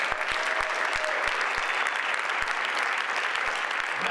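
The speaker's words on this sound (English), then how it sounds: "please give a round of applause for Michael Herrera." An audience applauds a storyteller placed fifth at a world folktales competition, with steady clapping across a hall and a few sharper, closer claps punctuating it.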